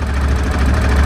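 A Yamaha Rhino UTV engine idling with a steady, loud, low rumble and even vibration throughout, close up with no voices.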